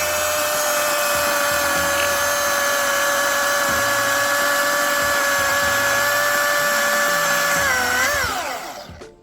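Milwaukee 2727-20 16-inch cordless chainsaw running steadily at high speed for several seconds, a loud close whine that winds down at the end.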